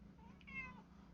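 A single faint cat meow, short and rising, heard indoors over a low steady hum.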